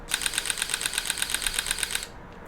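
Rapid mechanical shutter clicks from a Panasonic Lumix GX8 shooting 12 frames per second fire in a steady burst of about two dozen evenly spaced snaps, then stop abruptly, leaving quiet.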